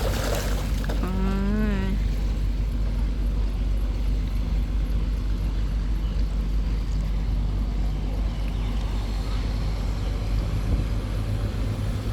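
Boats driven along a river, their engines a steady low drone throughout, mixed with wind buffeting and a brief high whistling tone early on.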